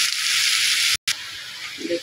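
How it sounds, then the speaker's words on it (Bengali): Chopped onions fry in a pan for a katla fish curry, a constant hissing sizzle that cuts out for an instant, then resumes with a soft knock near the end. "পেঁয়াজগুলো আমি বাদামি কালার করে ভেজে নিয়েছি"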